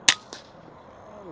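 An air rifle fires at a rabbit at about 84 metres with a single sharp crack, followed a fraction of a second later by a fainter snap as the pellet strikes, then quiet outdoor background.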